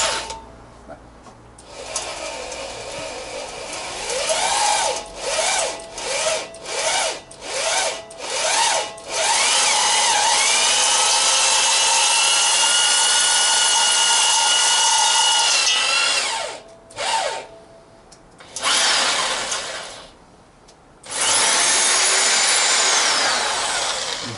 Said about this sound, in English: And we drill.